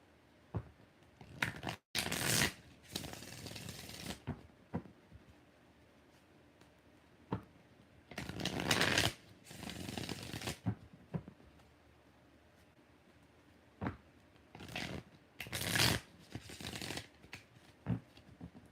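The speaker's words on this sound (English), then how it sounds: "One more shuffle." Tarot cards being shuffled in several separate bursts, riffling and rustling close by, with quiet pauses between them and no talking.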